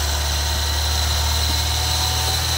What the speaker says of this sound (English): Suddenly, as you guys heard, the car started revving up.